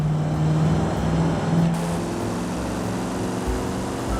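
A car engine in a driving video game hums steadily through second gear, its low drone shifting in pitch as it revs, moderately loud and continuous with no talking.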